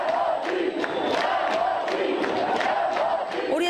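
Protesting students chant in a loud crowd outside a university rector's office, rhythmic shouted bursts repeating roughly every half second over a constant roar of massed voices.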